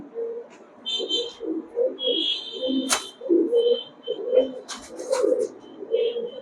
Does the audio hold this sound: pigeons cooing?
yes